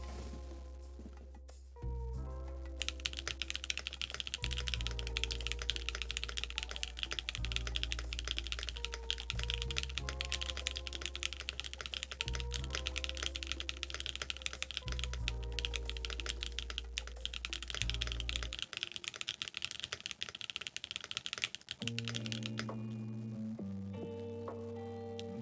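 Steady, close typing on an Emery 65 mechanical keyboard fitted with prototype Ooolong switches, a polycarbonate plate and a Bakeneko 65 PCB. The clacky keystrokes run continuously under a sustained background tone, with no one talking.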